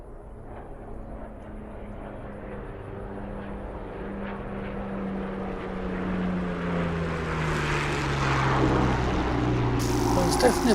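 A P-51 propeller fighter plane in the DCS flight simulator game flies past, its steady engine drone swelling louder and brighter toward the end as it closes in.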